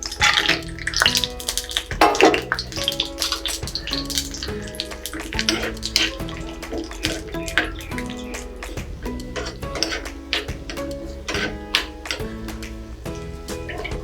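Cashews frying in ghee in a pan for ven pongal give an irregular crackling sizzle in close bursts, with soft background music underneath.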